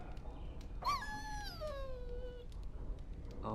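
A dog in the video game Dragon Age Origins gives a single drawn-out, falling whimper that rises sharply, then slides down and fades over about a second and a half, heard close over a low background hum.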